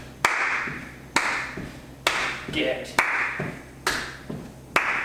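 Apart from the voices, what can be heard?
hand clapping during heel dig warm-up exercise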